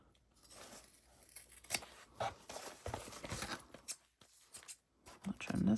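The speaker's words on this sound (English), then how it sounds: "So let's go ahead and trim off these corners." Scissors snip through fabric lining at the corners in short crisp cuts, up close, heard alongside speech.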